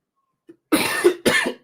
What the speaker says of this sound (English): try not to cough up a lung here